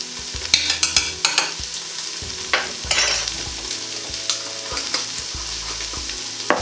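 Lentil chilli ingredients with a teaspoon of crushed chillies sauté in a pan, a low sizzle broken by repeated scraping stirs and utensil knocks at an uneven rhythm, close by and without talk.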